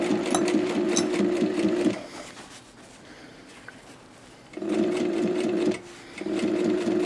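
A sewing machine runs loud and close as it stitches a pocket onto a skydiving rig, humming in bursts that stop for a quiet pause of a few seconds before starting again, briefly breaking, then resuming.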